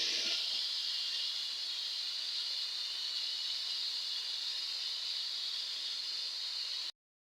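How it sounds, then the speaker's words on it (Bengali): Washed kolmi greens hit a hot pan and set off a steady, loud sizzle that holds evenly for about seven seconds and then cuts off abruptly. There is no talking over it. "এই যে শাকটা কিন্তু আমি ভালো করে ধুয়ে রাখছি, ঢেলে দিলাম একবারে।"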